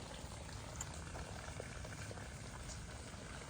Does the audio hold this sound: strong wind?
no